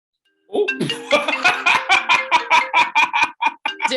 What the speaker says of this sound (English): But did our podcast just get interrupted by a phone call?